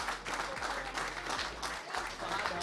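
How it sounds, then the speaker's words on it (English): An audience at the final of a pool tournament, the Grand Mchana Open, claps for the players, a continuous moderately loud patter of many hands with some crowd murmur. "Please clap for them. Clap for these guys."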